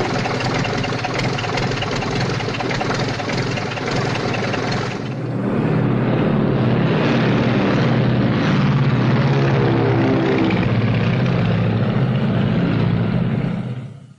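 A propeller airplane engine idles, then revs up for takeoff, building to a loud, steady, close-up drone that holds until it cuts off at the end. Nobody speaks.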